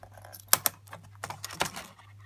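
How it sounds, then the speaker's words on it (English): Plastic clicks and snaps as the keyboard of an Apple iBook G3 laptop is released by its two tabs and lifted, with two sharp knocks near the start and a cluster of clicks later, close by, over a faint steady hum. "remove the keyboard with these two tabs located on the keyboard"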